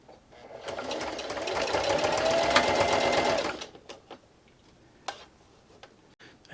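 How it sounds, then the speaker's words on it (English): A sewing machine runs a straight stitch for about three seconds, a steady close whirring hum that starts and stops cleanly, followed by a few faint clicks and handling sounds. "I'm using the same straight stitch."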